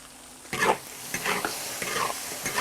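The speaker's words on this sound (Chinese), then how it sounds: "炒香了之后，加一碗泡椒，继续翻炒。" Chicken tossed with a bowl of pickled chilies in a hot wok, with a steady sizzle and repeated scraping stirs of the spatula coming every half second or so, close and moderately loud.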